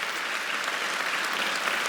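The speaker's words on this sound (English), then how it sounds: "Let's give ourselves a round of applause" An audience applauds at a live talk event: dense, steady clapping from many hands, sustained at an even level throughout with no speech over it.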